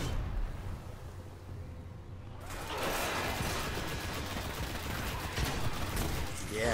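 In Destiny, gunfire is aimed at trip mines. A quieter stretch gives way partway through to a sustained, loud volley of rapid shots and explosive crackle that runs to the end.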